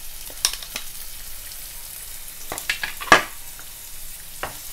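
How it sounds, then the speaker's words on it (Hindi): Chopped onion frying in a spoonful of oil in a pan gives a steady low sizzle, with scattered scraping stirs and one sharp clatter close by. "इसी पैन में मैं फिर से 1 चम्मच तेल डाल लेती हूँ और इसमें मैं 1 कटा प्याज डाल लेती हूँ।"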